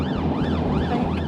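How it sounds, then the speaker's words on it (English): Police car siren wailing on a motorway, a loud close sweeping rise and fall repeating about three times over steady road noise. "you've got your blue lights and sirens going"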